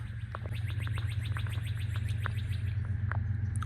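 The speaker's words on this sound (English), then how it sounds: "Hear them birds out here?" Birds chirp outdoors at a junkyard in a rapid run of short, repeated high calls, moderately close, over a steady low engine-like hum.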